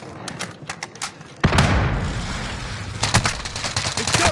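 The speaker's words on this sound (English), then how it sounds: "Claymores down. Grenade going out." A grenade goes off in Warzone: scattered gunshots give way to one sudden loud blast, followed by a rolling rumble and a renewed flurry of rapid shots.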